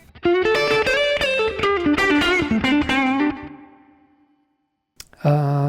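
Distorted electric instrument phrase washed in reverb, a busy run of notes that fades into a long decaying tail, briefly goes quiet, then a new loud chord begins; no talking.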